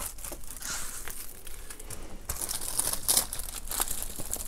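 Crisp plastic cover crinkling and rustling up close while a diamond painting kit is unboxed, irregular bursts of crackle growing louder toward the end.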